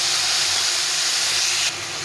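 Spice paste hitting hot oil with frying vegetables, a strong steady steaming hiss at close range that drops slightly in level toward the end.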